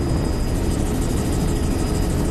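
A helicopter heard from inside the cabin gives a loud, steady rotor and engine roar with a rapid rhythmic blade thump.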